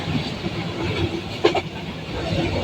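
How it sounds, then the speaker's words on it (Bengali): A passenger train runs at speed through a city at night, heard from on board as a steady rumbling roll of wheels and carriages with a brief sharper clatter midway. "শহরের মাঝখান দিয়ে যে ট্রেনটা যাচ্ছে"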